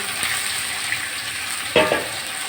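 Fried rohu fish heads tipped back into hot oil in a kadai give a steady close sizzle, with a sharper burst of spitting and crackle as they hit the oil near the end.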